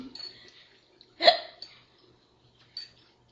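A single sharp, fairly loud hiccup pops out of near-silence, with faint breaths and small mouth sounds around it and no talking.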